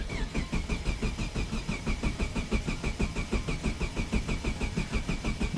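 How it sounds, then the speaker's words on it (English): A five-cylinder engine swapped into a Mazda Miata cranks over steadily, the starter churning in a fast even rhythm, close and loud without catching into a run. "we'll go to start the car. First cranking will be get the oil pressure going."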